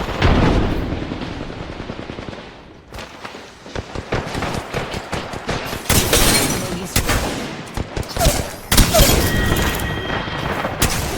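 Rapid gunfire from a full squad shooting at once in the Apex Legends battle royale game, dense bursts of automatic fire and heavy booms crowding the whole clip, loud and close with brief lulls between volleys.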